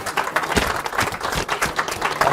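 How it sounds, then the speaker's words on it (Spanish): A conference audience at an international symposium applauds, with dense, close claps in an uneven patter that stay loud through the whole short burst. "Nuevamente aplauso."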